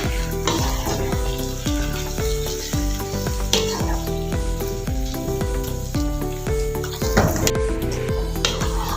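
A bread-crumb mixture sizzles and crackles in a pan while being stirred and roasted, with rhythmic background music playing throughout at a similar level.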